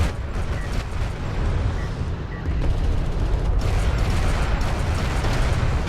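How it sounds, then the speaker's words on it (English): Explosions and weapon fire in a real-time strategy game battle as LAV units are destroyed form a constant, dense roar of blasts and mechanical clatter, growing slightly louder midway. "These LAVs just got destroyed, man."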